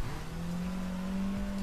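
A car being driven along a road in the game Sleeping Dogs, its engine a steady, close, continuous drone throughout.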